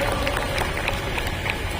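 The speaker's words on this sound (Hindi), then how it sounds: "एक बार जोरदार तालियां करें, जोरदार तालियां।" Audience applause at a senior citizens' Elder Day function held by the Sarita Vihar council, a dense, steady wash of clapping from a crowd that holds at an even level for the whole stretch.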